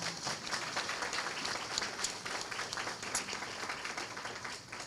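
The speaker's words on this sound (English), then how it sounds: "So can we give her a round of applause?" An audience at a recovery center's tea party gives a round of applause: steady, fairly distant clapping from many hands that holds for several seconds with no break.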